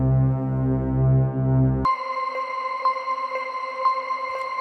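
Atmospheric synth drone samples from an Afro house sound pack: a low, thick sustained tone for two seconds, then a brighter, thinner held tone with faint pulsing ticks, steady and loud with no voices.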